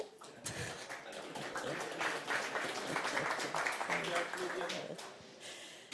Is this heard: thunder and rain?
no